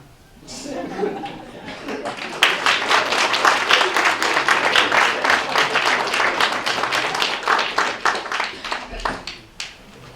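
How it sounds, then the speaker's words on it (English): A school board meeting audience claps loudly and fast for several seconds, with some chatter and light laughter mixed in before it tapers off. "That get loud and clap for that."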